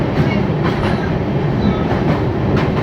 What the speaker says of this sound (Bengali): ভাগীরথী নদীর উপর দিয়ে নসিপুর রেল ব্রিজ পার করছে সাইরাং এক্সপ্রেস।